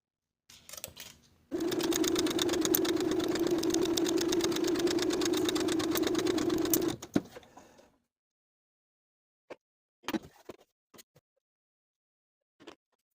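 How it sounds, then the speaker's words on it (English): A sewing machine stitches a dart in scrap fabric for a women's top, running in one steady, fast mechanical whir for about five seconds before stopping. A few short clicks and taps follow in near silence. "sew from the top to the bottom, leaving thread tails at the bottom as well"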